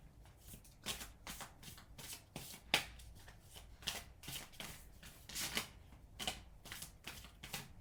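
Tarot cards shuffled and dealt by hand, a quick run of soft riffling flutters and papery snaps with a few sharper slaps as cards land, fairly close and steady, with no talking.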